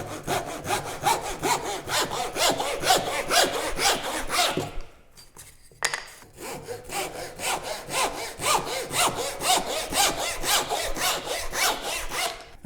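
A hand saw cuts wooden components for a book stand to length, with steady rhythmic rasping strokes close up, a brief pause midway, then the sawing resumes, no voices.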